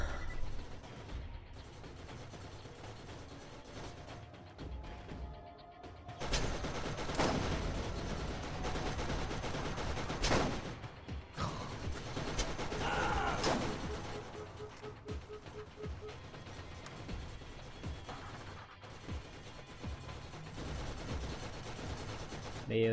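Turret gunfire in Borderlands, bursts of rapid shots mixed with mechanical clanks and creaks, moderately loud in two main stretches with quieter clatter between.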